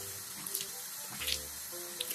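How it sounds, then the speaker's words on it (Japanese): Tap water runs into a sink while a mineral salt home spa scrub is rinsed off the face, a soft steady flow broken by small splashes, with no talk. "もう洗い流そう、怖い"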